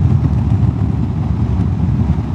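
A Honda X-ADV 750 with a two-cylinder, 750 cc engine runs with a steady, low, throbbing rumble, close and loud, and no voices over it.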